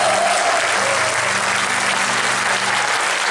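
Sustained applause from an audience at a posthumous tribute concert, greeting a band; dense, steady clapping fills the whole stretch at close range, with faint crowd murmur beneath and no speech.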